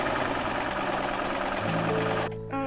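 A sewing machine stitches fabric for a winter witch hat, a steady close motor whir running continuously, shifting pitch near the end before briefly easing off.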